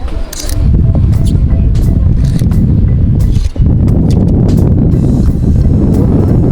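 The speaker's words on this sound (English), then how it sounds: "getting windy again" Loud, steady low rumble of wind buffeting the microphone at an outdoor flea market, continuous throughout with a few brief gusty surges.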